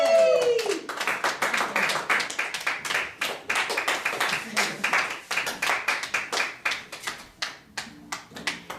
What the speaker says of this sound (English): That's actually a lot of clapping for this much audience.